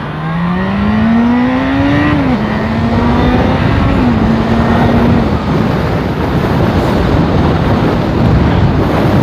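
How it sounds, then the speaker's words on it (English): A loud motorbike engine with standard exhaust hums at a low pitch while riding, rising as it revs and then settling, buried under heavy rushing wind noise for the whole stretch. "I actually really hope you can hear the bike noise as well."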